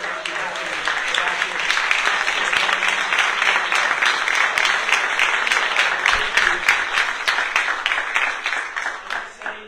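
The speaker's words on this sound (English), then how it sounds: "Let's give them a round of applause." Audience applause for county supervisors at a Humboldt funding announcement, steady sustained clapping from a crowd lasting several seconds, then tapering off at the end.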